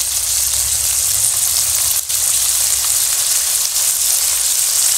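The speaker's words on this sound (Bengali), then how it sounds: "সব কিছু মশলা ভালো করে কষিয়ে নেব" Ginger paste, cumin paste, turmeric and chilli powder sizzle steadily in hot oil in a pan, a loud continuous frying hiss with one brief dip, no voices.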